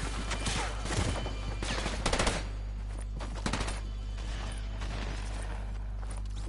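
Rapid bursts of automatic gunfire in a shooter video game, sharp clustered shots crackling over a steady low hum, with a couple of louder volleys.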